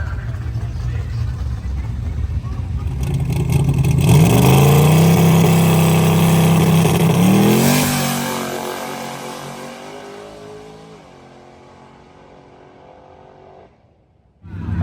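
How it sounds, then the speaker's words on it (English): A twin-turbo LS-powered Ford Zephyr drag car launches down a dirt strip, its engine rising in a loud, close roar that peaks and then fades away into the distance, with talking over it. "Up the RPM, trying to get just a clean pass on the dirty dirt here."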